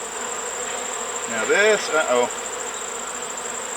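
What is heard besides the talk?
honeybees buzzing at an open hive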